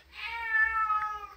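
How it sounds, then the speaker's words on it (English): A house cat gives one drawn-out, tonal meow close by, rising then steady for over a second, with a low hum beneath and no talk. "Excuse me, the cat needs to go outside."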